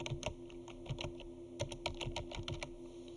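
Computer keyboard keys clack in quick irregular runs of close, crisp taps with short pauses between bursts, over a faint steady hum, with no voices.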